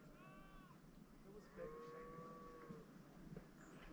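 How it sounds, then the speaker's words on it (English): Distant cattle mooing in New Zealand countryside, a few drawn-out low calls carried over a steady background murmur of outdoor noise. "Hear the cows and the sheep mooing in the distance there?"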